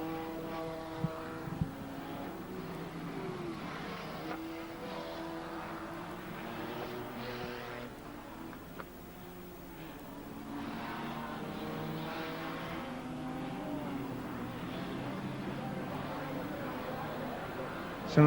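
Banger racing cars roar around the track at the 1994 Banger World Cup in Warneton, Belgium, with engines droning and revving steadily under continuous commentary.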